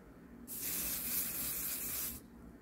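Hair spray from an aerosol can misted onto styled hair gives one steady, soft hiss lasting under two seconds, starting and stopping sharply against a quiet room.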